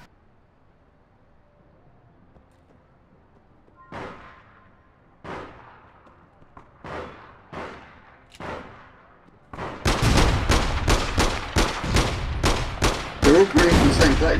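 Gunfire in the online shooter APB Reloaded: a sparse run of single shots with short echoing tails, then a dense, loud burst of rapid fire, close by, with someone speaking briefly over it.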